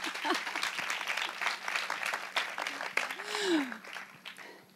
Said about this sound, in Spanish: Es pot aplaudir.